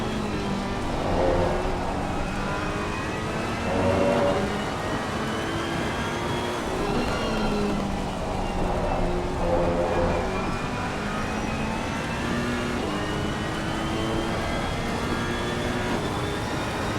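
A Ferrari GT3 race car heard on board in Assetto Corsa Competizione at Zolder, its engine droning steadily with rising and falling revs through gear changes, loud and continuous with no voices.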